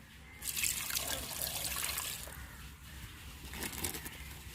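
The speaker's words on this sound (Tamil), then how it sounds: "தண்ணி சேர்த்துக்குருவோங்க" Water poured into a pot of fish curry with tomato, a close trickling and splashing stream that rises, eases, then continues more softly.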